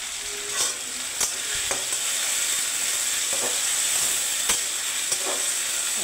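Potatoes frying in a pan, a steady close sizzle and hiss throughout with occasional faint clicks and spatters, no voices.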